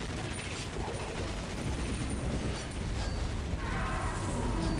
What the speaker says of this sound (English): It's just explosions everywhere across the map.